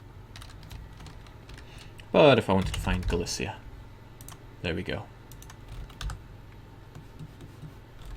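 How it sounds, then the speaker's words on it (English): Brief burst of typing on a computer keyboard, a quick cluster of key clicks close by, with someone talking over and after it in a quiet room. "I would have to type it properly and I don't have the right keyboard"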